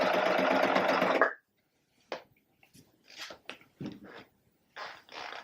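A serger sewing machine stitches a quilting project in a steady, loud, close mechanical whir that runs for about a second, then stops, followed by scattered quieter fabric handling and clicking sounds.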